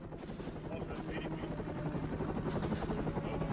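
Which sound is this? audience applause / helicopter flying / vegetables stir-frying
helicopter flying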